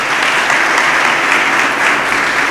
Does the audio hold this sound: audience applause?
yes